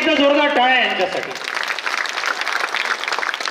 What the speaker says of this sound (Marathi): एकदा जोरदार टाळ्या यांच्यासाठी.